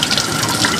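Grey, discoloured water runs steadily from a tap in a Brighton Beach apartment, a loud close rushing hiss with no voices.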